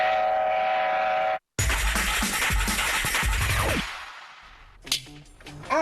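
A train sounds a sustained horn, breaks off, then roars past close by in a loud, dense rush of rumble and rattle that fades away, with a few sharp clanks after it and no voices.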